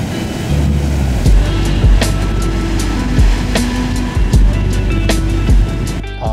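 Sea water surges into a coastal sinkhole and drains back down. The water rushes and churns steadily, with repeated swelling surges and sloshing falls, loud and close.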